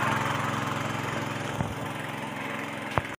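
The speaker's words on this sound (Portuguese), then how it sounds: "ligado nosso motor aí, ligado, a água já tá indo pra lá" A white electric motor pump runs steadily while filling a 3,000-litre water tank, giving a continuous, fairly loud mechanical drone with a couple of faint knocks near the end.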